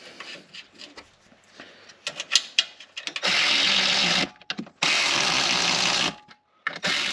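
Nuts on a Commodore control arm are tightened with a ratchet or power tool, giving irregular clicks and scrapes followed by two sustained bursts of loud whirring, close up with no talk.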